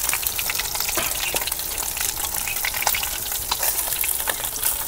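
Katla fish frying in a pan of hot oil, a steady, loud, hissing sizzle with scattered crackles and pops throughout, close up and without talk.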